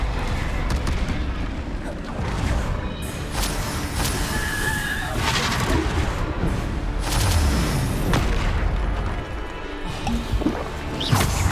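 Bombarda explosion spell cast in Hogwarts Legacy during a dueling trial, booming blasts and impact thuds erupting among other spell effects and combat clatter, loud and dense throughout.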